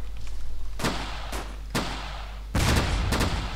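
Rifle fire in the World War II shooter game Iron Front: about seven sharp, loud shots with gaps between them, the last few in a quicker burst, over a steady low hum.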